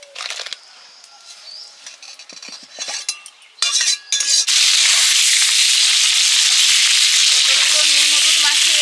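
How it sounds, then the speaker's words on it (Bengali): Panch phoron and whole cumin seeds frying in mustard oil, heard first as scattered utensil clinks and taps, then a loud, dense, steady crackling sizzle that fills the rest of the clip, no voices. "শুক্তোর জন্য 5 ফোড়ন আর গোটা জিরে মিশিয়ে ভেজে নিচ্ছি"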